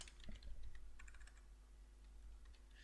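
Typing on a computer keyboard, a fast run of light clicking keystrokes heard close and fairly quiet, busiest in the first half and then sparser, with no talking.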